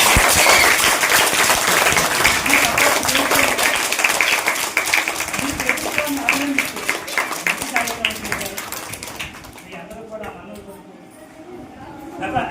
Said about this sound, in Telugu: మీ తల్లిదండ్రులు కూడా గట్టిగా చప్పట్లు పట్టాలి